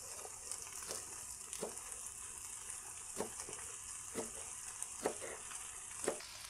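Pepper steak frying on a Blackstone griddle, a soft steady sizzle broken by repeated stirring scrapes spaced about a second apart, heard alone.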